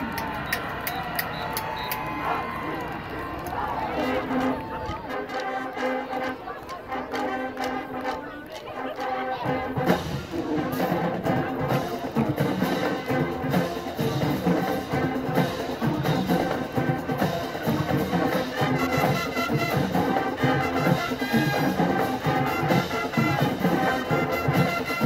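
A high school marching band, the Little Miami Panthers, plays a 1973 hit at an outdoor band show, brass and drums carrying steadily with crowd chatter mixed in.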